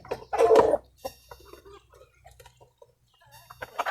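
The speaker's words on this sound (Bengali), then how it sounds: "দেশি মুরগিগুলা খাবারটা খাচ্ছে" Native desi chickens cluck softly while eating mixed feed, with one louder burst early on, then scattered quiet clucks and pecking sounds.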